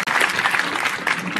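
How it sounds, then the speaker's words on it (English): A graduation audience at a 2018 high school ceremony claps steadily and densely, a continuous wash of applause filling the short moment from start to finish. "You can clap for that, too."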